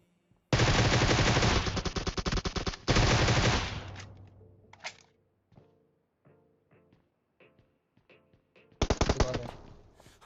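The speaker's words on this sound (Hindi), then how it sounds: "गोली चलाता हूँ, गोली नहीं लगती" Groza assault rifle fire in the PUBG Mobile video game, two long loud full-auto bursts, scattered shorter shots and distant pops, then a final burst near the end.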